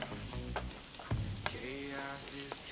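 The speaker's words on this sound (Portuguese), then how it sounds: "hora de entrar com cebola e alho. E vamos refogar" Onion and garlic hit a pan with browned bacon and calabresa sausage on a churrasqueira, giving a steady sizzle and frying crackle with a few stirring scrapes, close and without speech.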